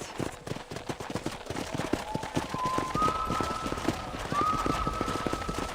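Horse hooves clip-clopping in a fast, steady rhythm while riding in Red Dead Redemption, close and continuous, with a faint whistle-like tone drifting in the background.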